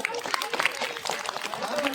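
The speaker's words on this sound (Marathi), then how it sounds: "अरे मोठ्याने टाळ्या वाजवा ना." Children in a classroom clapping loudly, a continuous dense patter of many hands with voices mixed in throughout.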